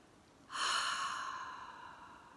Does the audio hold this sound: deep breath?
yes